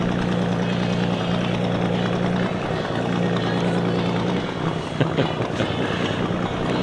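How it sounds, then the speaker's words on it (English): Classic Gar Wood boat with twin V8 engines and straight-up pipes, a steady loud low engine rumble with a constant drone, heavy wind buffeting across the microphone, outdoors on the water. "Got twin, it's like twin V8s in here. Pipes just going straight up. This thing must be louder than all get out."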